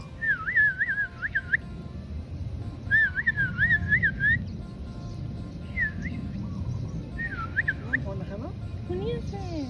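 A person whistles short, warbling melodic phrases in bursts outdoors at Diamond Head crater on Oahu, with pauses between, over a low ambient rumble and faint background voices.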